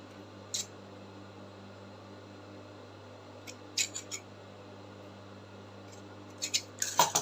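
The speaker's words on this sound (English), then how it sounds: "I'll just trim off a little more" Fabric trimmed with scissors while finishing an extended drop-shoulder bustier, heard as a few faint, short snips spread across a quiet room with steady low hum.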